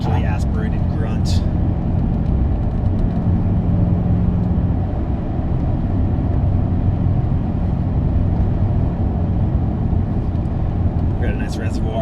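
Audi A6 Quattro C5 with a naturally aspirated V8 and six-speed manual, driving with a steady low engine rumble and road noise, loud inside the cabin, while someone talks over it.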